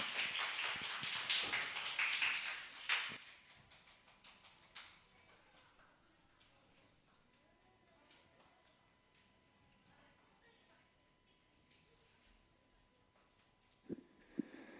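A congregation applauding to give glory to God at a church worship service with children, dense clapping for a few seconds that quickly dies away, followed by quiet and a couple of scattered taps.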